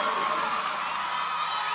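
Concert crowd at an outdoor anniversary festival in Río Gallegos roars with shouts, whoops and cheers, a dense, steady wall of voices filling the space.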